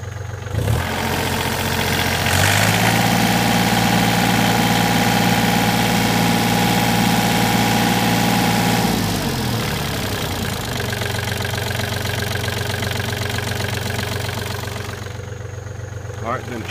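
A 3-cylinder Yanmar diesel fires up and settles into a close, clattering idle. It holds a slightly higher, steady rpm for several seconds, then drops back to a lower, even knock.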